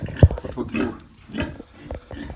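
Ten-day-old piglets grunt and snuffle in short bursts while feeding, with soft oinks and rustling close by.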